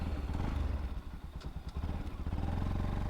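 A Bajaj Pulsar NS200 BS4 motorcycle engine runs close by, a steady low throbbing idle with a dip and slight revving partway through, alone with no talk.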